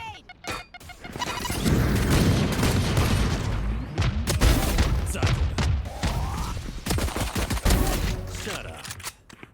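A grenade blast and heavy gunfire in a competitive Rainbow Six-style shooter match, loud and sustained, with rapid shots and booms layered over shouted voices.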